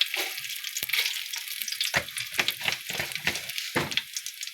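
Bay leaves, green chilies, whole spices and cumin seeds frying in hot oil for chicken biryani, a loud continuous sizzle with crackling pops and stirring bursts, close up and without talk.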